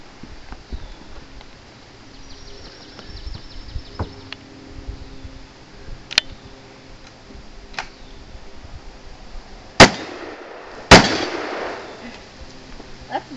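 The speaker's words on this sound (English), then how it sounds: "Shotgun." Two sharp, loud shotgun blasts crack out about a second apart at a cowboy action shooting stage in Ripon, Wisconsin, each with a short ringing tail, after a quieter stretch of faint outdoor background and scattered small clicks.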